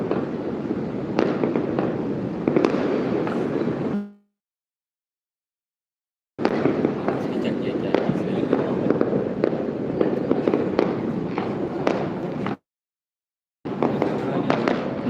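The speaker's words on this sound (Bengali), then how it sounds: "দেখতে পাচ্ছেন কেমন ধোয়া কতটা ধোয়া আসলে প্রচুর ধোয়া এখানে বাজি ফোটার কারণে" New Year fireworks burst over KLCC in Kuala Lumpur in dense, crackling volleys of near, loud bangs, interrupted by two short stretches of silence, with a person talking amid the noise.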